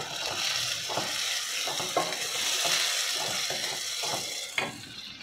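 Chopped onions frying and sizzling in a pan while a spoon stirs them for an aloo kurma made with gram flour, a steady close sizzle broken by several scraping stirs.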